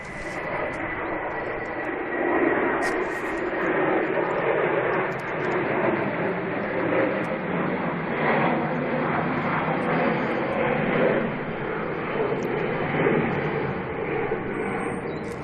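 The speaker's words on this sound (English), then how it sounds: "TUI with a 737-800 destination Verona" A TUI Boeing 737-800 airliner at Manchester Airport produces a sustained engine roar with a rising and falling whine, moderately loud and continuous throughout.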